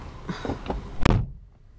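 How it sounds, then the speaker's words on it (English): A 2008 Toyota Solara SLE V6 door swings shut with a single solid thunk, preceded by a few light rustles and clicks, close and fairly loud, then quiet interior ambience. "Shut the door."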